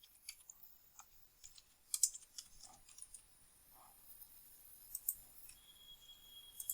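Soft, faint clicking of computer keyboard keys as code is typed, scattered irregular taps with short pauses, close and quiet with no talking.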